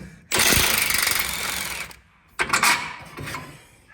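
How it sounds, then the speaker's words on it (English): A 21mm socket and wrench loosening a bolt from a frame mount during a high steer knuckle install: a loud, rattling impact-style burst of about a second and a half, a pause, then a shorter second burst. "using a 21mm socket and a 21mm wrench this time, and go ahead and remove the bolt securing it in place"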